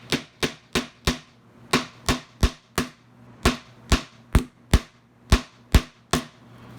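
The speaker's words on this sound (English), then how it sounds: "I use the jeweler's hammer." A jeweler's hammer tapping a piece into place at a woodworking seam between a table and a swing gate, sharp close strikes, about sixteen in loose groups with short pauses.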